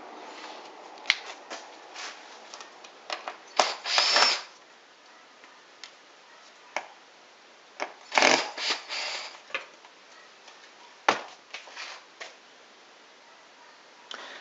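A power saw cuts wood pieces for a sawdust-extraction gate in a woodworking shop, in several short loud bursts of cutting between quieter stretches of low motor hum.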